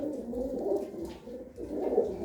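Low, rolling coos from several pigeons nearby, rising and falling in overlapping swells with a brief dip midway, no voices present.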